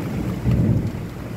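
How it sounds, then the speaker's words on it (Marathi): Strong early-June monsoon wind gusting with rain, a low rumbling roar with buffeting against the microphone that swells briefly in the middle, steady and close, with no speech. "अचानक वारं जोराने आहे आणि पाऊस कमी आहे."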